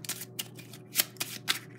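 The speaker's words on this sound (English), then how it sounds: "I want you to take this deck and shuffle it as much as you want in front of the camera" A deck of playing cards being shuffled by hand in a series of quick riffling bursts, close and crisp, with short pauses between each shuffle.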